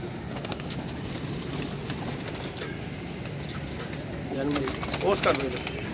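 Pigeons in a loft of about forty flying birds coo softly amid ambient outdoor noise, with a louder burst of cooing and a fluttering near the end; someone talks over it.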